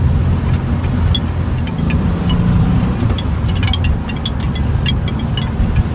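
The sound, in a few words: camper bus driving on a country road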